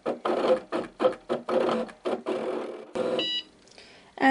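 A Cricut cutting machine slices paper hinges and a card frame, giving a run of rhythmic mechanical whirring bursts with short gaps, then a few brief high electronic beeps near the end.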